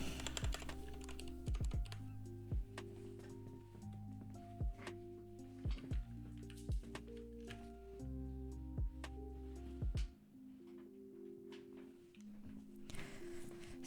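Typing on an Asus hot-swap mechanical keyboard fitted with swapped-in spare switches: a steady run of close, crisp key clacks with occasional heavier bottom-out thocks, alone without talk.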